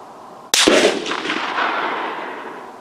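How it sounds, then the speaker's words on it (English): A single sharp rifle shot from a Lencac M1A SOCOM aimed at a steel post 200 yards away, a loud close crack followed by a long rolling echo across the range. "I'm gonna take another shot."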